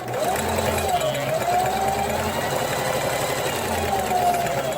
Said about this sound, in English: we're going to sew maybe about 5/8 of a seam